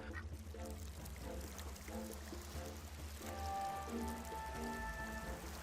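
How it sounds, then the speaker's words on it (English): A panning tray swirls shore water in RuneScape 3, a continuous watery pouring and splashing at moderate volume with tonal game music layered over it, no speech. "click on the water at the shore to the east to begin panning"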